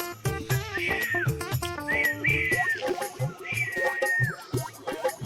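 A man whistles a tune in a Dogri comedy sketch, bright sliding phrases repeated several times over a steady rhythmic music backing.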